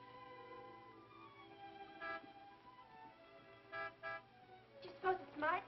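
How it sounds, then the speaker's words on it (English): Several short car horn toots sound in bursts, a couple spaced apart then a quicker cluster, over a steady hum and faint background voices. "Martin would never honk a horn at a lady"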